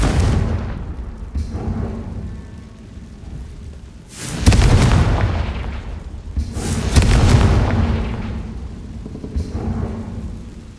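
Confringo fire spell blasts in the Hogwarts Legacy video game: two deep booming explosions with rumbling tails, the second around the middle of the stretch, with a lighter crack near the end, no talking.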